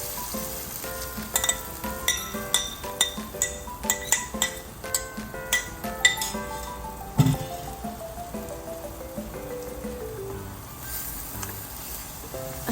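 Egg and sausage stirred in a frying pan, with a spoon clinking against the pan in a quick, irregular rhythm over a steady sizzle of frying. The clinking fades after several seconds, leaving the sizzle alone.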